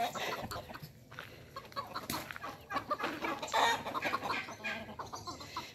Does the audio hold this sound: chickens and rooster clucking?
yes